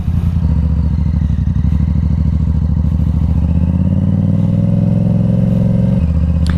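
A Yamaha R7 sport motorcycle being ridden, its parallel-twin engine droning loud and close with a steady pulsing rumble, pitch shifting slightly as throttle changes, heavy wind noise throughout.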